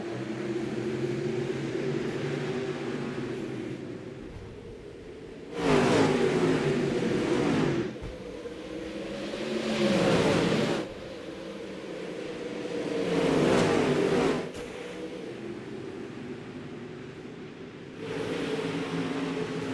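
Dirt late model race cars roar around the Eldora Speedway dirt oval, engines droning under a steady crowd-and-track noise with loud surges every few seconds as cars sweep past close by.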